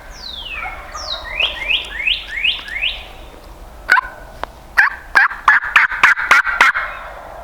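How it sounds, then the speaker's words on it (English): Wild turkey longbeards gobble in the Nebraska outdoors: a run of rising, yelping calls gives way to a rapid string of sharp, rattling gobbles at fairly close range, repeated in quick bursts with no talking. "because they were still gobbling"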